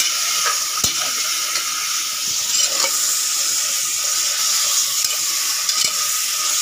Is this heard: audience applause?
no